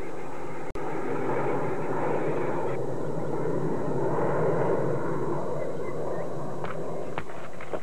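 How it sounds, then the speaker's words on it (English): Propeller aeroplane droning overhead, a broad steady engine roar that holds at even loudness for several seconds after a single sharp click near the start. "There's another aeroplane!"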